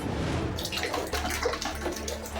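Water pouring steadily into a flooded basement beneath a house in central Kyiv, a continuous rushing splash close by, with no voices.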